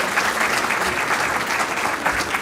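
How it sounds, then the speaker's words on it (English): An audience at a city public safety awards ceremony applauds committee members, a steady burst of clapping at moderate level lasting the whole moment. "let's give a nice round of applause to all the committee members here tonight in this program"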